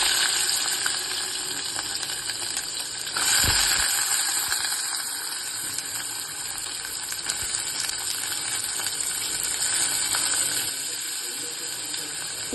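Coconut, ginger and garlic fry in hot oil with a steady, hissing sizzle throughout, and a clatter of dropped pieces or a stir near the start briefly adds a low thud.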